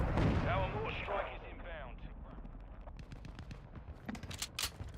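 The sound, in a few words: mortar strike explosions in Call of Duty video game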